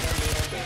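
In Far Cry 4, a gun fired from inside a moving car lets off a short, loud burst of rapid shots, close up, then cuts off abruptly.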